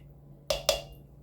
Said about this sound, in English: Let me stir them around a little bit.